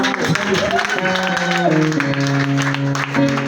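A church congregation applauds and cheers in praise of Jesus, a steady dense wash of clapping mixed with raised voices and calls throughout.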